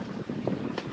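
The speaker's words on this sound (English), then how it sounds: "The wind's picking up." Wind rushing past a sailboat on a bluewater passage in the Bahamas, a steady broadband roar with faint gusty swells and no voices.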